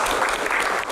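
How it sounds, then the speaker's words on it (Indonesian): An audience applauds at an Indonesian televised talk forum, a dense steady wash of clapping filling a brief moment. "Tepuk tangan."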